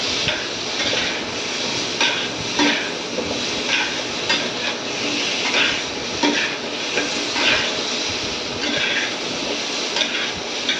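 Mustard paste being stirred in a frying pan for a raw mango and rohu fish curry: a constant sizzling hiss broken by repeated scraping and clinking knocks of a utensil against the pan.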